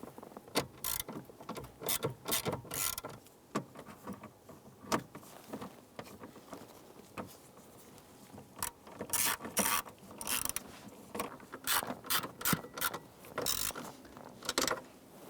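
Screwdriver work on the dash instrument cluster of a 1995-2001 Ford Explorer, with repeated short ratcheting clicks and mechanical ticks in irregular bursts, close and fairly quiet, with no talking.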